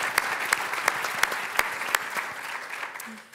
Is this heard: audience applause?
yes